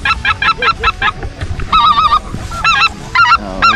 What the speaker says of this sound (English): Trying to be a goose.